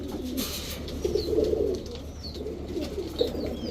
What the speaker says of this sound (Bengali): এখন দেখাবো এক জোড়া ইন্ডিয়ান নাপ্তা কবুতর।